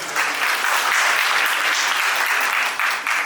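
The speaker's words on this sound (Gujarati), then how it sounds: "જોરદાર તાળી થઈ જાય" An audience at a foundation's bridal-outfit distribution event breaks into loud, sustained applause, a dense wash of clapping that fills the moment without voices.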